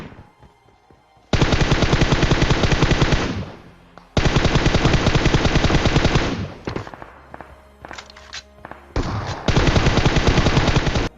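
Rapid automatic gunfire in the mobile battle game PUBG Mobile, loud sustained bursts separated by short gaps, with scattered single shots and clicks in between.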